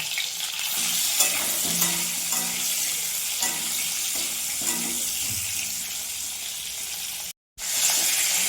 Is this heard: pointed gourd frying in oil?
yes